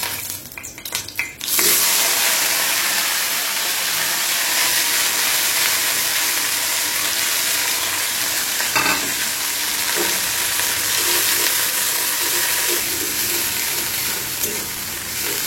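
Khichuri hits hot mixed white oil and mustard oil in a pan, bursting into a loud, steady sizzle after a brief clatter, with occasional stirring scrapes breaking the continuous frying hiss.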